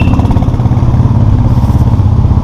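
Motorcycles ride through the streets of Mussoorie, loud and close, with a rhythmic, pulsing engine chug and some clatter running throughout and no talking.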